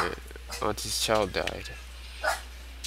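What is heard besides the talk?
dog barking in the video game Paranoiac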